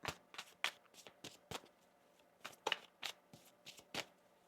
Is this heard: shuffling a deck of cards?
yes